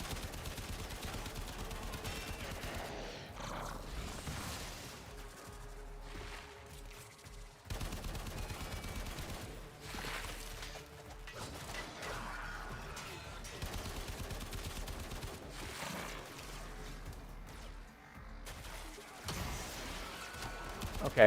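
Sci-fi gunfire from the video game Warframe, aimed at an enemy's shoulder plates, comes as sustained bursts and volleys across the clip, mixed with mechanical clatter and in-game effects.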